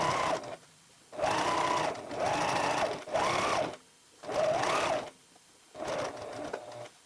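Sewing machine stitching quilt binding, running in five or six steady bursts of a second or so each, separated by short pauses, close and fairly loud with no talk.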